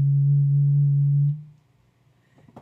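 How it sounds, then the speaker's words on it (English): Breath blown across the mouth of an open, empty bottle gives a steady, pure hollow tone that holds for over a second, then cuts off, leaving near silence and a few faint clicks. "if you breathe, just like you did, across the top of an open and empty bottle, you will probably get a sound like this"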